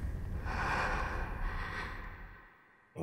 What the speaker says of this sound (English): Oh, some ASMR breathing in my headphones there.